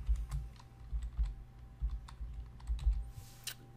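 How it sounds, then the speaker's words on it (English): Fingers type on a computer keyboard close up, producing quick clusters of soft clacks and taps with brief pauses between bursts and no speech. "you're going to type in Feedbro"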